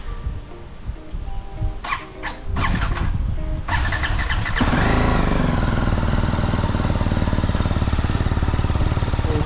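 A motorcycle engine is cold-started outdoors on a trip to Mahendragiri peak in Odisha. A few stuttering cranks and short bursts lead into a steady, loud idle that runs to the end.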